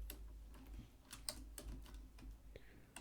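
Fingers tap on a computer keyboard while a SQL query is entered, giving a quiet run of irregular key clicks over a low background hum.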